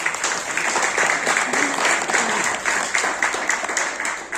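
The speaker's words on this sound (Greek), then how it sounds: "Ένα χειροκρότημα" Warm applause from a gathered crowd at a book presentation in Greek, a continuous dense clapping texture, fairly loud and close, with faint voices mixed underneath.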